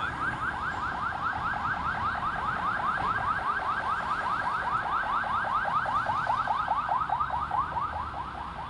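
A wailing ambulance siren on a street in Ermita, Manila sweeps up and down in rapid, regular cycles, loud and continuous over traffic rumble, with no voices.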